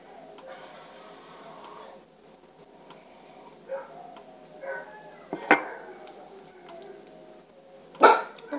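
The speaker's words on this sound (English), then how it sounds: "the dogs in the back are barking" Dogs bark a few times in the distance, scattered sharp barks over a quiet room background.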